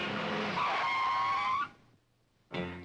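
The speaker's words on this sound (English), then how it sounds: "He lights his pipe at the exact moment Marvin hits his brakes." A car brakes hard in traffic, its tires squealing in a loud, sustained skid that cuts off abruptly; after a short lull another sharp squeal begins.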